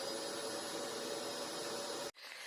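A vacuum cleaner runs loud and steady with a constant whining roar, then cuts off abruptly near the end, leaving a quieter background.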